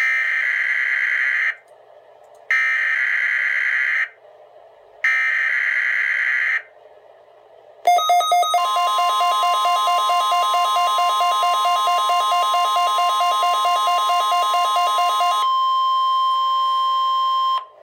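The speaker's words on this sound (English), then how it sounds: "The proceeding was a test of the National Weather Service warning alarm tone" A National Weather Service weather radio test begins with three long, loud, steady data bursts separated by silence. A continuous piercing warning alarm tone then follows and holds for several seconds before changing pitch near the end.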